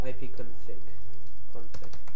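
Keystrokes on a computer keyboard as a command is entered into a Windows command prompt, a few quick clicks near the start and a short burst near the end, under steady background hum.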